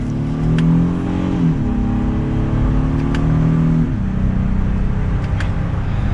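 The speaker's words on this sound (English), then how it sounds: "And from second gear, we'll give it some gas." 2022 Honda Passport Trailsport accelerating hard from second gear, a loud steady engine drone rising in pitch, dropping briefly at an upshift, then climbing again, heard from inside the cabin.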